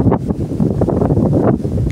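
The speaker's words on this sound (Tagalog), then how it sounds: "malakas yung hangin" Strong mountain wind buffeting the microphone in steady, rumbling gusts, loud and close, with no voices.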